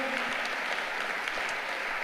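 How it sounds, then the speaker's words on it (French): A forum audience applauds, a dense continuous patter of many hands clapping at moderate volume from a medium distance, with no voices standing out. "On peut l'applaudir, s'il vous plaît."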